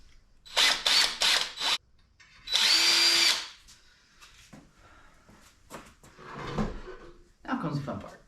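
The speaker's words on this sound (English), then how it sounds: "I drill a little hole here so my hole saw has somewhere to" A power drill whirs in several short bursts drilling a pilot hole in metal, then one longer sustained run, followed by clattering handling noises and a few scraping bumps.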